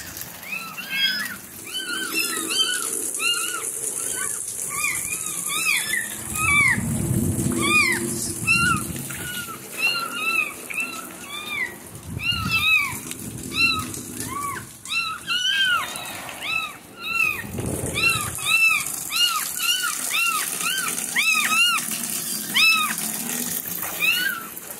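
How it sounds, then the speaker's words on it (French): Kittens struggling in water cry out in repeated high, urgent meows, many overlapping calls over a faint watery background, with occasional low rumbles of movement and handling. "dès qu'il a vu les chatons se débattre dans l'eau"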